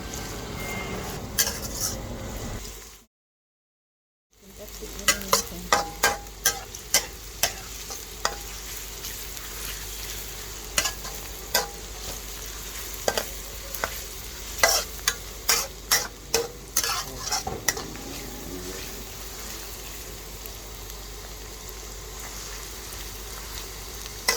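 Garlic frying in oil until golden, a steady soft sizzle punctuated by repeated sharp spoon clinks and stirring strokes, with one brief dropout near the start.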